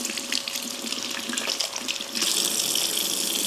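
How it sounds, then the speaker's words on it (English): Tap water runs from a faucet over raw chicken pieces being rinsed in a sink, a constant close splashing hiss that grows fuller and louder partway through. "is rinse the pieces"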